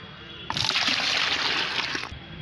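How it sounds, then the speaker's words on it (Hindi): Plain water pours steadily into a liquid plant fertilizer, a close, continuous trickling splash lasting under two seconds with an abrupt start and stop. "इसमें पहले हमें सादा पानी मिलाना होगा।"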